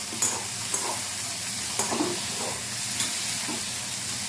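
Sliced okra with a little lemon being stirred in a hot wok, a steady sizzle running throughout with a few sharp scrapes of the spatula against the pan.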